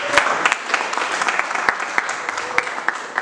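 Congregation at a French-language church service applauding together, a steady dense patter of many hands clapping with sharp individual claps standing out, close and lively throughout.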